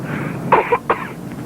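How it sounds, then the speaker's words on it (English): A few harsh coughs from a person with a cold, two short bursts close to the mic, followed by a faint trailing hack, with quiet background hiss and no talking. "I always cough like this when I got a cold."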